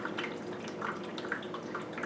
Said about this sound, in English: You can just hear it dripping away.